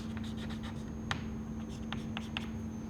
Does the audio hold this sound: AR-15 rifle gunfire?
no